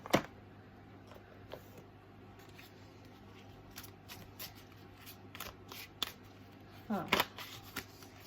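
Quiet riffling and snapping of a tarot deck being shuffled close by, in scattered bursts with a louder flurry near the end, while a voice murmurs faintly underneath.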